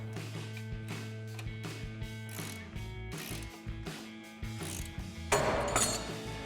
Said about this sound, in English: So I've got a 19mm wrench to tighten down this bolt.